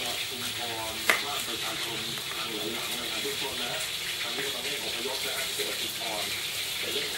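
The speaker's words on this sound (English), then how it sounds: "See, he's squeezing the coconut by hand." Grated coconut is squeezed by hand with added water to press out coconut milk for Thai massaman curry, giving soft continuous wet squishing and dripping, fairly quiet, with one sharp knock early on.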